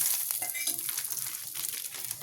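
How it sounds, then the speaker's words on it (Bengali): Gram flour and asafoetida sizzle steadily in about two spoonfuls of hot oil, a close, continuous hissing crackle with light stirring scrapes throughout, no voices. "একটু ভাজা ভাজা করতে হবে"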